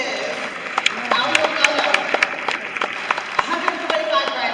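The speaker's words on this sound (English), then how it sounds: "Give yourselves a round of applause." A crowd claps steadily at a high school graduation ceremony with a few sharp individual claps standing out, while voices murmur and speech continues underneath.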